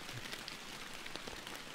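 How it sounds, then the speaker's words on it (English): Steady rain patters on surfaces in the Fishing Planet video game, a faint, even hiss of dense drops with occasional louder taps, heard alone. "Just chill out in the rain, and I'm glad it is raining"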